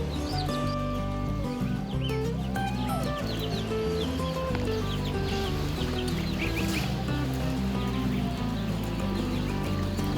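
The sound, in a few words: chickens clucking, Rhode Island Reds and Brown Leghorns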